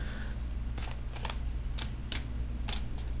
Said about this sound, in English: So I'm shuffling for a little while longer